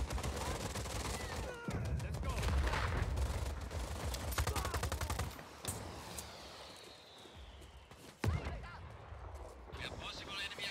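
Rapid video-game gunfire from the open-world action game Just Cause 4, with bursts and single shots crackling in repeated volleys, loud and close, mixed with in-game battle noise.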